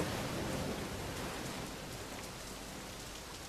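Steady rain in the video game DSA Satinavs Ketten, a dense, even hiss of falling water that eases slightly after the first second and carries on alone with no voices.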